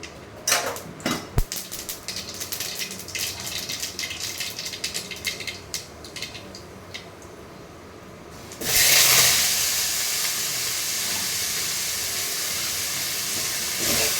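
Mustard seeds spluttering and hissing in hot oil in a pan while cooking cauliflower kuzhambu for dinner; scattered pops first, then a loud steady sizzle bursts in and continues to the end, with no talk.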